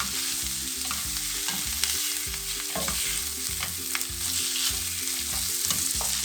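Minced kefta meat frying and being stirred in a pan, a steady sizzle with repeated scraping strokes and a low rumbling hum underneath, close-up and uninterrupted by speech.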